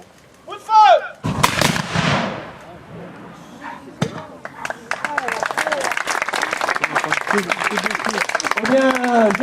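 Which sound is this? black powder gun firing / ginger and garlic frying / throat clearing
black powder gun firing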